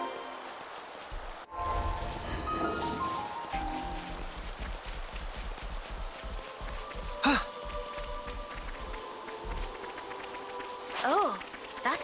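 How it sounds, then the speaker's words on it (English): Steady rain falls in the Xenoblade Chronicles 3 game world, a constant wash of drops with brief bright chimes and effects, under occasional speech. "Rain. How inconvenient."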